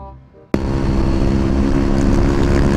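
A Yamaha NMAX scooter engine kicks in abruptly after a quiet moment and holds a loud, steady, close-up rev with a rough, droning roar to the end.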